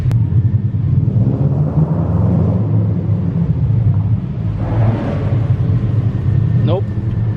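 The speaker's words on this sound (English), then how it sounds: "my exhaust is very echoey" Car exhaust with a misfire rumbling and echoing inside a parking garage, a steady low drone throughout with a brief rev near the end, loud and close.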